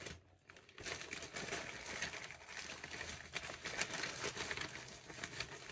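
Continuous rustling and crinkling of thin plastic being handled close up, with a brief quiet moment at the start.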